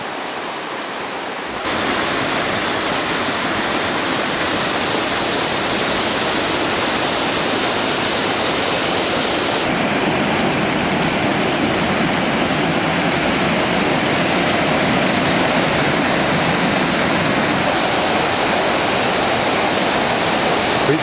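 A river rushing through the Enipeas Gorge on Mount Olympus, a loud, dense, unbroken roar of water close by, steady and alone throughout.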